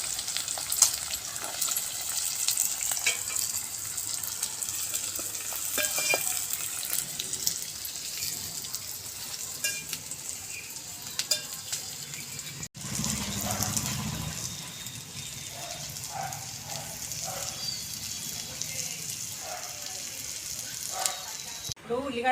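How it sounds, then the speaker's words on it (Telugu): Onion pieces dropped into hot oil with cumin seeds for a minced-meat keema curry sizzle with a steady, bright, close hiss that briefly breaks off midway and then resumes with some pan clatter. "జీలకర్ర గోలంగానే ఇప్పుడు ఉల్లిగడ్డ ముక్కలు వేసుకోవాలి."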